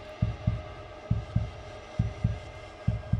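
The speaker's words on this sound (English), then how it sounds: "I can hear my heart beating in my chest right now." Heartbeat sound effect in the Roblox game Find The Simpsons: deep, paired lub-dub thumps repeating steadily about every second, loud and close over a faint hum, with no talking.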